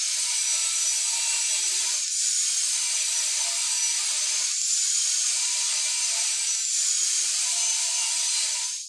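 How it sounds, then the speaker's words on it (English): A power saw cuts wooden planter panels at an 8-degree bevel, a steady high whining roar lasting several seconds with slight dips as the blade moves through the wood. "Now I've got to cut the front and back panels to that same 8-degree bevel on the bottom and on the top"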